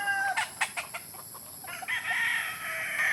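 Several chickens cluck and squawk close by in short bursts, followed by a drawn-out higher cackle.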